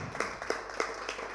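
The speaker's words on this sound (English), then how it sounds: "I think they need a big round of applause." An audience at a talk on Kwame Nkrumah claps in a slow, steady rhythm, with distinct hand claps about three per second, moderate in level and slightly roomy.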